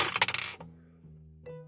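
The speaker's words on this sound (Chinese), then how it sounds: "我们把硬币从这里投进去，" A coin drops into a toy Robocar Poli vending machine with a loud metallic rattle that settles within half a second, followed by a steady electronic hum and a short chime from the toy.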